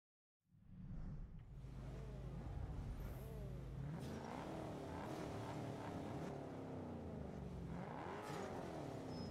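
Race cars accelerating in Test Drive Unlimited Solar Crown, starting from silence into a steady engine drone with rising and falling revs as gears shift, several engines blending at moderate loudness, no talking.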